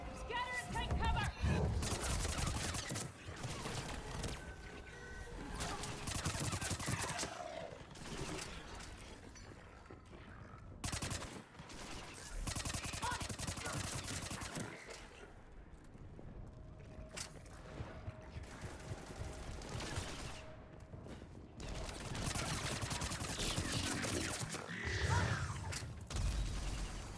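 Gunfire and impacts during a firefight in the video game Mass Effect 3, with repeated bursts of shots, crashing and mechanical clatter in dense waves, while a voice shouts orders over the combat.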